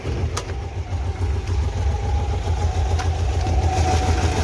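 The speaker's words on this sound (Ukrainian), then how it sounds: "Послухайте, як працює моторчик мій." A small engine of an old Zaporozhets car idles steadily with a low, rumbling pulse, close by and continuous, with no talking, inside a garage.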